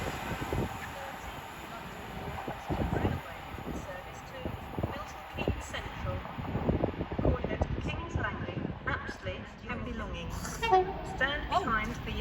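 An Avanti West Coast Class 390 Pendolino from Manchester Piccadilly to London Euston passes through Watford Junction, giving a steady broadband rumble and whoosh with louder surges. Someone talks over it throughout.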